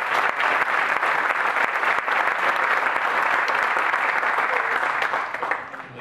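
A graduation audience at a church Bible institute in North Las Vegas claps steadily for its graduating students, a dense, even wash of applause that tapers off slightly at the end.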